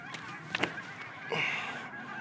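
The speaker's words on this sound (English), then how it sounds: "I feel like these birds know something that I don't. Like they're freaking out all over the place." Geese honk in agitated bursts, a few sharp calls followed by a longer nasal honk, moderately close, with quiet outdoor ambience between them.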